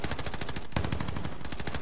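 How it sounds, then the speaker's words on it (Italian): Rapid automatic gunfire in a Call of Duty battle royale match, a fast, evenly spaced burst of sharp shots running through the whole moment, close and loud with no pause. "Ti sta sparando, eh?"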